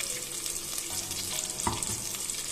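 Curry leaves, garlic paste and fresh chili paste frying for a Kerala village-style coconut fish curry, a bright steady sizzle with short scraping stirs, close and alone.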